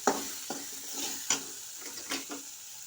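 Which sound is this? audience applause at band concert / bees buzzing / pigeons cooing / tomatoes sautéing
tomatoes sautéing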